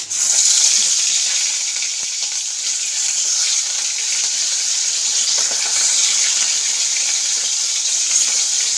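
Koi fish fry in hot oil in a kadai, giving a loud, steady, close sizzle and bubbling hiss that runs unbroken throughout.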